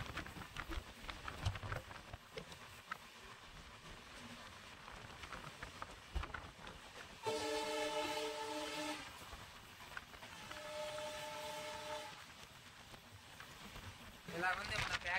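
The Vivek Express rumbles along the rails in Assam, with a steady rolling drone broken by two long, sustained horn blasts in the middle and another brief rise near the end.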